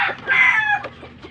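Roosters and hens for sale at a farm cluck and crow nearby, with one loud strained crow rising over scattered short clucks.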